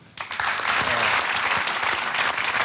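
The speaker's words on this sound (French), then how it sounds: "Vous pouvez l'applaudir." Dense, steady applause from a live audience at a comedy stage show, loud and continuous after a sudden start.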